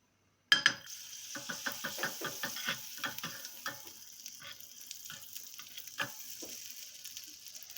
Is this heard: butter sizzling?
yes